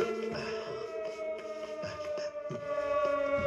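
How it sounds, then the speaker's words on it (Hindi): A warning siren wails in sustained, wavering tones, moderately loud with slight dips and swells, sounding alone without speech over it. "उस सायरन का मतलब सावधान होना है।"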